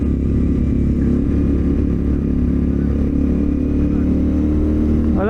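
A CFMoto 450SR motorcycle with an aftermarket exhaust runs steadily on wet roads, its loud, deep bass engine drone holding at constant volume throughout with a brief rising note near the end.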